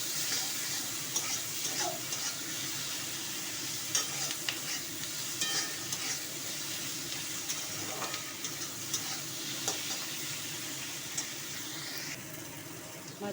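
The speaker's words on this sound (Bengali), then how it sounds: "নাড়াচাড়া করে নেব।" Eggs fry in a pan with salt and turmeric while a spoon stirs them, producing a steady sizzle with frequent scraping clicks and clinks close by, and no talking.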